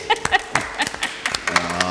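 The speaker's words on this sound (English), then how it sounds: "Y'all not going to clap for her?" A handful of meeting attendees in a public board meeting give scattered, uneven clapping for a colleague, sparse sharp claps close by with faint voices in between.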